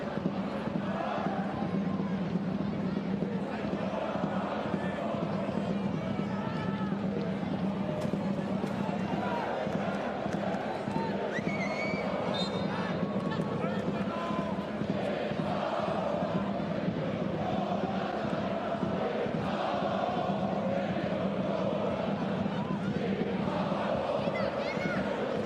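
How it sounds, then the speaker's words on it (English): A home crowd at a Union Berlin football match against Hamburger SV chants steadily in a large stadium, producing a continuous dense roar of voices for the whole stretch while a commentator talks over it. "Chant from the home crowd now."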